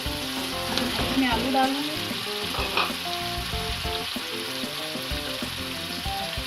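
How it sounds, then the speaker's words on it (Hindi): Masala of spices and green chillies sizzles steadily as it fries in a pan for a potato dish, a continuous close crackle with occasional stirring scrapes while someone talks. "ये देखिए मसाला तकरीबन भून गया है।"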